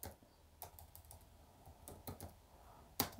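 Typing on a computer keyboard, a few sparse and fairly quiet key presses spread out with pauses, ending in one sharper keystroke, with no voices.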